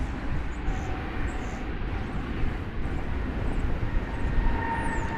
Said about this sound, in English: This is the flight to Las Vegas.